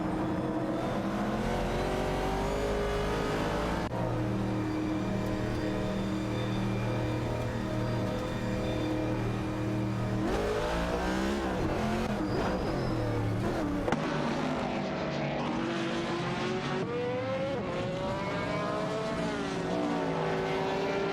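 Race cars, among them a Ferrari 712, roar through a racing video game with layered engine whines that rise and fall as cars shift and pass, loud and continuous throughout.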